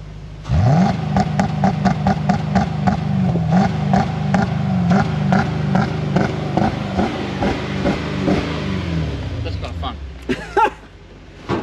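A Toyota 3UZ/1UZ V8 engine, faulted with air flow meter and oxygen sensor codes and unable to rev past about 3,000 rpm, revs up and holds a loud, steady drone, then winds down; a voice speaks briefly near the end.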